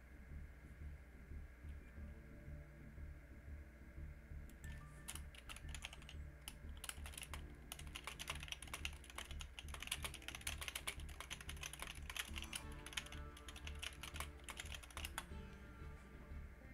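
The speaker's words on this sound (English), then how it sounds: "Sorry, I'm typing in the thing." Fingers type on a computer keyboard during an online card game tournament, with soft, rapid key clicks that start after a few seconds of quiet hum and keep going, faint and close.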